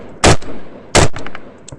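Two loud, sharp gunshots ring out about three quarters of a second apart during a firefight, each followed by a brief echoing tail and fainter distant cracks.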